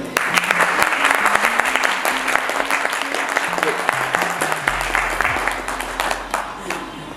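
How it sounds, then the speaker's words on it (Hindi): Loud, steady applause and clapping from a workshop audience gathered for a training event, filling the room continuously, with a voice briefly audible over it. "आप तालियां बजा दें"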